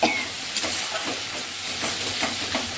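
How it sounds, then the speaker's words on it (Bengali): Yogurt added and stirred into frying vegetarian biryani masala in a pan, giving a steady close hiss and sizzle with soft scraping stir strokes recurring through it, and no talk. "এইবার দই দিয়ে দিলাম দইটা একটু বেশি পরিমাণেই দিতে হবে"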